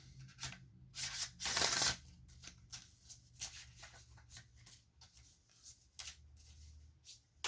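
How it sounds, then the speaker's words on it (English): A deck of big oracle cards is shuffled by hand, giving soft papery riffles and slides in irregular bursts, one louder flurry near the start and then quieter intermittent rustles, close and fairly faint. "these big oracle cards are a little bit trickier to shuffle"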